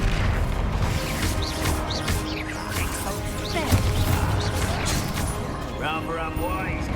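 Blasting-spell explosions in the Hogwarts Legacy Ranrok boss fight, a dense stream of crashing booms and thwacks that keeps up nearly throughout, with layered magical effects and music underneath.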